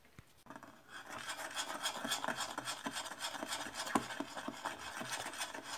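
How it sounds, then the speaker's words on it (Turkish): A spoon stirs homemade pollen fondant for bees in a pot, a steady, close scraping and rasping that repeats in quick strokes, fairly faint and with no voices. "İyice karıştırıp soğumasını bekleyeceğim"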